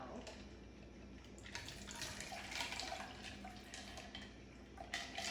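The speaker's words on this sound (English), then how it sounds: "The first thing we do is add our ice water." Ice water pours steadily through a strainer with a splashy, rushing sound, continuous for several seconds with no voices.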